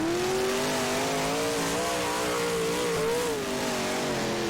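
Simulated big block race cars lapping Lawrenceburg in rFactor, a loud steady engine drone with wavering pitch as the throttle rises and falls, several cars blending together without pause.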